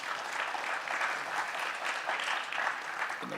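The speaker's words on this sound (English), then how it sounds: "So again, a wonderful round of applause for the colleagues" A panel audience at a G20 side event on disaster risk financing applauds, a steady even wash of many hands clapping throughout, moderately distant.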